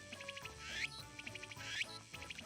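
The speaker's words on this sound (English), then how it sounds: "No, it's birds." Repeated chirping and squawking bird calls from the Rune Factory video game, bright and regular, come in two rising bursts over a busy game soundtrack.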